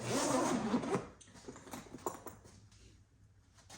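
A YKK zipper on a Veto Pro Pac tool bag is pulled in a quick raspy run, then a few softer handling clicks and rustles follow close up.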